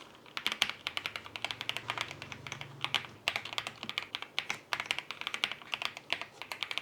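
Fast, clicky keystrokes on an RK M87 mechanical keyboard, typed in continuous bursts with a crisp, close sound and no voices.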